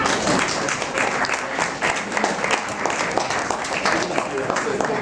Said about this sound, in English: Come on, if you want to see that happening, let me hear you clap.